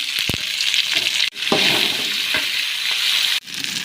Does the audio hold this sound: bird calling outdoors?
no